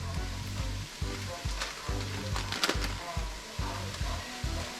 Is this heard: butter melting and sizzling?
yes